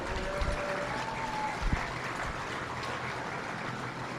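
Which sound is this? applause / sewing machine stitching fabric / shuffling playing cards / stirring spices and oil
applause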